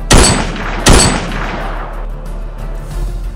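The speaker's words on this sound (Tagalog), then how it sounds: "nang makarinig sila ulit ng isang putok" Two sharp gunshots ring out close together near the start, each a loud crack with a decaying tail, followed by a low rumbling background.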